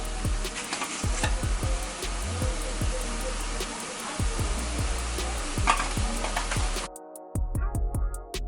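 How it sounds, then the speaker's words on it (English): Loud, continuous sizzling of ground beef browning in a pan, with repeated scraping and stirring knocks from a utensil; the sizzle briefly drops out near the end. "Now once we are browning up the beef"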